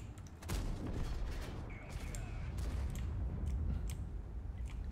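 A tank in the video game World of Tanks fires a high-explosive shell: a sharp blast opens the clip, followed by a loud, sustained rumbling roar with scattered cracks that stays steady throughout.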